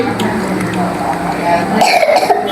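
A couple of harsh coughs up close, with voices talking around them.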